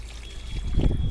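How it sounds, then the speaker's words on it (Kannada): Water left from washing rice is poured onto garden plants in summer, giving a steady splashing trickle that grows heavier toward the end, close and continuous. "ಫ್ರೆಶ್ ಆಗಿರೋ ಅಕ್ಕಿ ತೊಳೆದ ನೀರು ಹಾಕ್ಬೋದು ಗಿಡಗಳಿಗೆ"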